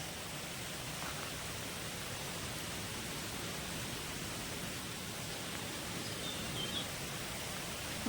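A stream flowing through a plantation, a soft, even, continuous wash of water, faint and steady throughout with no voices.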